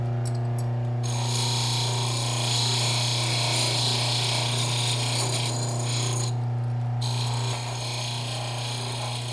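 A fast-cut rubberized grinding wheel works a metal spur rowel, a steady whirring grind with a constant hum, briefly lifting off and back on, loud and close.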